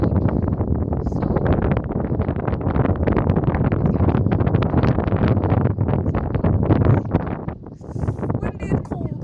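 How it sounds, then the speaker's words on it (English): Strong wind buffets a microphone outdoors in cold weather, a steady loud rumbling roar that runs the whole time and largely masks a person talking underneath. "I hope the wind didn't like speak over me the whole time"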